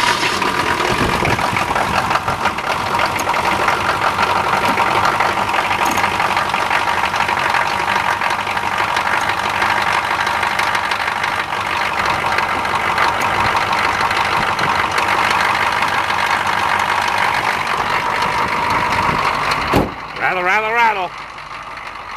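A GM 6.2 diesel V8 in a K5 Blazer idles steadily with a loud, rough clatter after a cold, snowy start, running close and continuous until it drops off sharply near the end.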